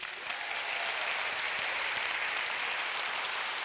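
Steady applause from an audience, a dense wash of clapping hands that holds at an even volume throughout.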